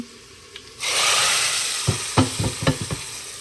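Hot tadka of fried onions for dal is poured in and bursts into a loud, steady sizzle, followed by several close scraping stirs as the spoon moves through the pan.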